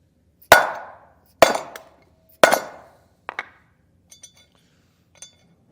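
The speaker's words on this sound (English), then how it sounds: "we'll hit that with the hammer" A hammer strikes a wood block set on an old bearing race while a Timken grease and oil seal is driven into a 2022 Forest River Rockwood Geo Pro trailer hub. Three loud, ringing blows fall about a second apart, followed by lighter clinks.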